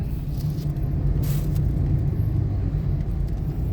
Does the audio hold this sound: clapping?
no